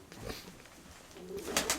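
Pigeons in a dovecote give a few soft, faint coos and low murmurs, with a couple of brief brighter bird calls near the end over quiet background noise.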